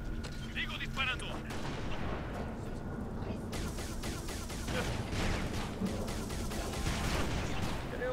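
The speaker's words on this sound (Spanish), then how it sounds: "¡Sigo disparando!" Gunfire in the video game Halo Reach, bursts of dense rapid shots and heavy booms layered over battle noise, with characters' voices mixed in.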